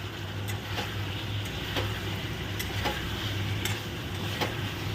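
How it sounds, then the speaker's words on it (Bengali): Fried potatoes are stirred with spice paste in a pan over a low flame, a soft steady sizzle and hum broken by intermittent scraping clicks of the spatula, close by and with no talk. "যে আলুগুলো ভেজেছিলাম সেই আলুগুলো মশলার সঙ্গে আমি আর একবার কষিয়ে নেব।"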